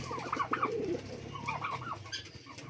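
Giribaz pigeons cooing close by, a few soft, rolling low coos in short bursts over faint background noise.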